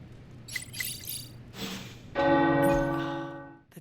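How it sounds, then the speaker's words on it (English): Tower bells ring in the video game Marvel Midnight Suns, with a few light chimes and then one loud, sustained bell strike that hums and slowly fades. "The tower bells are ringing."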